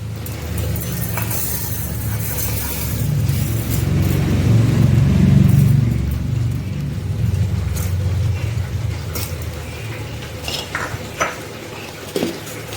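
A mixer grinder whirs while grinding mustard and green chilli into a smooth paste, its motor a loud low hum that builds and peaks mid-run, with light rattling clatter throughout.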